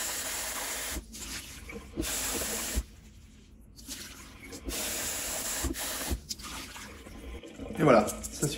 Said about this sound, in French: on va rincer plusieurs fois le riz pour enlever un maximum d'amidon